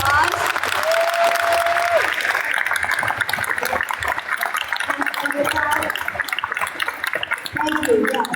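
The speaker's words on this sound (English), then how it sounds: "let's give him one more round of applause" A town hall crowd applauds a visiting senator, a dense wash of clapping heard at moderate distance, with voices speaking over it and brief tonal sounds cutting through.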